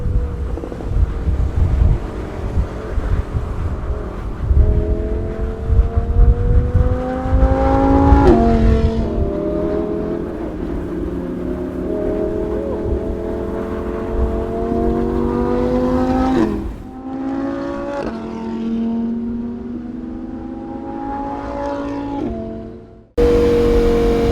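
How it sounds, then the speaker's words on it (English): An Audi R8 with its stock exhaust revs repeatedly, rising and falling in pitch with a loud, raspy roar, close by, with wind buffeting the microphone throughout. "that's completely stock exhaust for R8"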